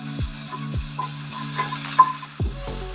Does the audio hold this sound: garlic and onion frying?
yes